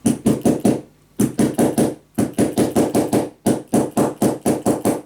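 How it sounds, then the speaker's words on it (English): Hammer blows on a scrapbook suitcase-style mini album, struck in quick bursts of four to six close, sharp hits separated by brief pauses, loud and near with no talking. "I also am gonna use my hammer"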